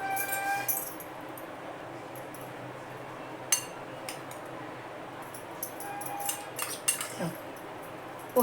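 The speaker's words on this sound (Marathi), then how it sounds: "हलवून घ्यायचं चांगलं" A spoon stirring sago flour batter in a vessel, with scattered clinks and light scrapes against the container, a few sharper knocks standing out over a quiet background.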